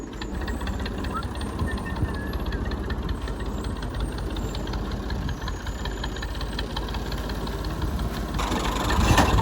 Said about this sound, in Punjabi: ਉਹ ਮੋਟਰ ਵਾਲੀ ਬਸ ਕਰ